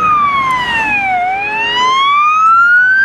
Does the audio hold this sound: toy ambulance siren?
yes